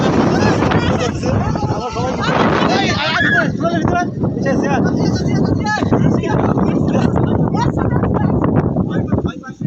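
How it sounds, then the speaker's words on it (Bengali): Strong gusting wind ahead of an approaching storm roars across the microphone while a person talks loudly over it throughout. "হাওয়া ছাড়ছে মানে এদিকটা পুরোটা মেঘ আসতেছে"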